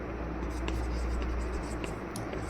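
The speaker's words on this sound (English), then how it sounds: "let me write it" A pen or marker writes on a board, making quiet, continuous scratchy strokes with small taps as each stroke starts, close by and with no voices.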